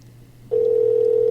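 Ringback tone of an outgoing telephone call sounds as a single steady, loud tone that starts about halfway through and holds without break after a quiet hum.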